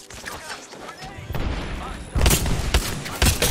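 Apex Legends gunfire rattles in bursts alongside a grenade blast, giving sharp repeated cracks and thumps that grow louder in the second half, with a player talking over part of it.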